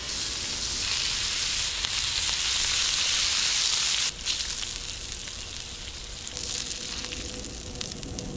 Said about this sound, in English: we're gonna go down with some bacon